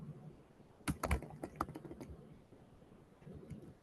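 Typing on a computer keyboard: a quick burst of close, crisp key clicks followed by a few scattered taps, fairly quiet with no talking.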